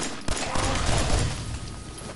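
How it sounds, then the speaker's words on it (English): In Fallout 4, a burst of explosions and gunfire roars out as a loud, rumbling barrage that hits sharply and then slowly fades. "More explosions."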